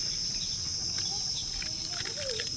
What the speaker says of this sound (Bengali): চারিদিকে পুরো ঝিঝি পোকার ডাক